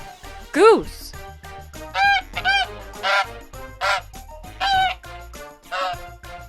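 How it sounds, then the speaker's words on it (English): A goose on a farm honks repeatedly, about seven loud nasal calls in a steady rhythm, close by over a low background murmur. "Goose."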